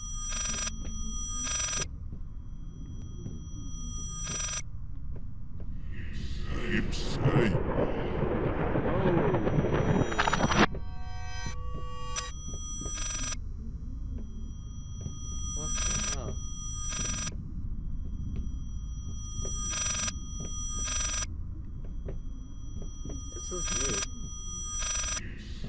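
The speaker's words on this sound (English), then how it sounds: "Was that a phone?" A telephone in the horror game Layers of Fear rings in repeated short bursts against a low, dark ambient drone, with a louder rumbling surge partway through.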